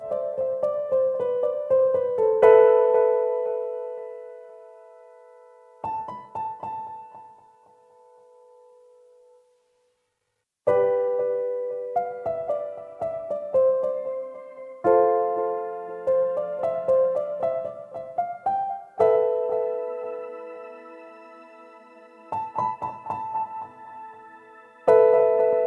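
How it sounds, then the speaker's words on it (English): Soft, muted felt piano from a Cubase 12 virtual instrument plays sustained chords and melodic phrases alone, with gentle attacks, a pause near the middle, then fuller resumed passages. "The Verve Felt Piano sounds like this."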